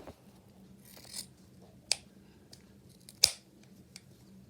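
Scissors cutting the tail of a sweater-fabric bow, with a few separate sharp snips spaced apart over a quiet room hum.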